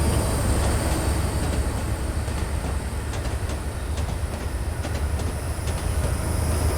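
A train runs in Train Simulator 2020, giving a steady, loud rolling rumble with faint rhythmic clicks of wheels on rail joints throughout.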